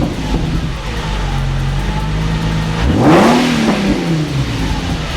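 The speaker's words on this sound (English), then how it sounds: "Let's give her some revs." A Nissan 350Z with a Borla exhaust and its catalytic converters still fitted revs up from idle, engine note climbing in one loud rise then falling back to a rumbling idle, close by, no speech.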